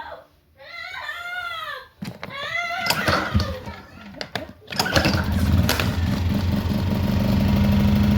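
Pulsar PG2300IS portable generator pulled into life, first brief talk and children's voices, then the engine catches and settles into a steady, smooth mid-pitched running drone that continues to the end.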